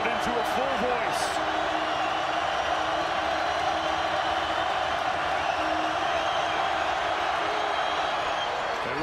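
A college basketball arena crowd roars at full voice during Georgia Tech vs NC State, a loud, sustained wall of cheering that holds throughout while a commentator talks over it.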